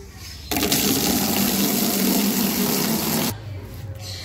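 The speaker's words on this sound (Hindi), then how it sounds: "इस टूटी से पानी भर लेंगे।" A tap runs water into a bucket, drawing a disinfecting wash for a lovebird breeding box: a steady, full rushing pour that starts abruptly, holds for about three seconds, then cuts off, leaving a quieter background.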